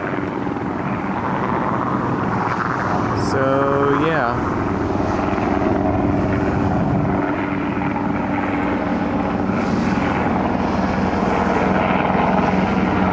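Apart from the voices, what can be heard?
military helicopter flying over beach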